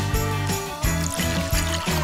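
Liquid poured into a bottle, a steady trickling stream running for about two seconds beneath loud background music with a pulsing beat.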